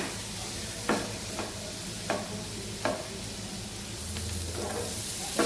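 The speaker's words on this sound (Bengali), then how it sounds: "এগুলো ভালো করে ভাজতে হবে" Capsicum and besan with spices fry in a pan over a low gas flame, a steady close sizzle broken by a few sharp scrapes of stirring.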